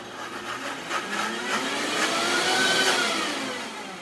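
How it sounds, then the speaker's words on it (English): A steady whirring motor roar with a mechanical, grinding texture runs throughout, building slightly in intensity before easing off. "we are going to process these up just to blend them really quick."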